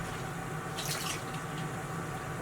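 Running tap water filling a container for a double batch of detergent mix, a steady close hiss that swells into a brief splashy burst near the middle before settling back to a constant flow.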